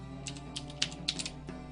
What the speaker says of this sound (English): Stupid mechanical keyboard being too easy to press.